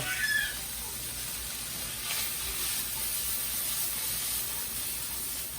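Mushrooms fry in a pan on a stove, a steady close hiss and sizzle that holds evenly throughout after a brief bright clatter at the start.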